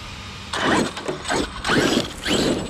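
An RC car's brushless Coke can motor, with its sensor failing, cogs in four short, loud, grinding ratchety bursts, each separated by a brief pause, up close.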